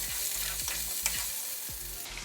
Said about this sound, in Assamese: মই এয়া আলু ফ্ৰাই কৰিবৰ কাৰণে অলপ মিঠাতেল দিছোঁ